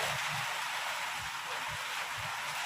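Heavy rain pouring down suddenly, a steady dense hiss filling the space, with low murmuring voices underneath.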